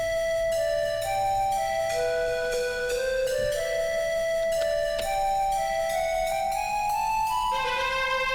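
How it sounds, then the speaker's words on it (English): A pan flute melody from a video game battle theme plays loud and steady, its breathy sustained notes stepping up and down over a continuous synth backing with no voices. "which is the pan flute melody now."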